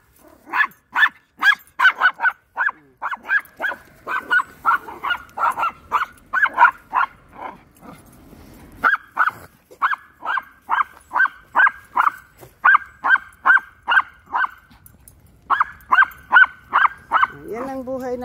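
A dog barks repeatedly in quick, rhythmic bursts, close and loud, with short pauses between runs of barks and a brief whimper near the end.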